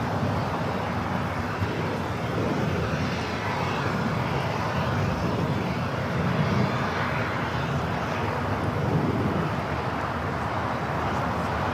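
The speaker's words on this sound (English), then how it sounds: "this A350 coming in from Seattle" An Airbus A350 arriving from Seattle lands at LAX, a sustained, loud jet engine roar holding steady throughout with no talk over it.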